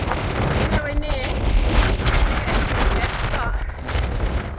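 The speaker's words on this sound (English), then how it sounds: "the wind's blowing so quickly" Strong gusty wind buffeting the microphone on a mountain ridgeline during a hike in rain, a loud continuous roar that swells and rushes throughout with no clear speech.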